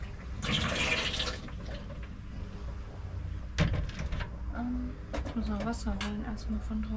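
Water runs and splashes into a container outdoors, a steady gurgling fill with clunks and knocks, while people talk nearby.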